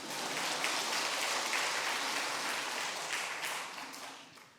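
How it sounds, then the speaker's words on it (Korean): An audience in a church claps together, a dense, crisp patter of many hands that swells quickly, holds steady and then tapers off toward the end. "박수 크게 쳐주세요"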